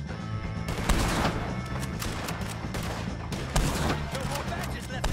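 Shootout with the O'Driscolls in Red Dead Redemption 2, sustained overlapping rifle and pistol shots with a couple of heavier bangs, steady gunfire filling the scene over faint background voices.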